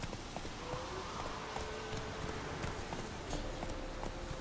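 Roach the horse's hooves clip-clop steadily in The Witcher 3, quiet and somewhat distant under a rumbling ambient background, with a voice faintly urging the horse on.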